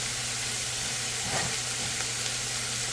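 Garlic and minced meat fry together in a pan with seasonings, giving a loud, steady sizzling hiss with a faint low hum underneath and a brief stir partway through.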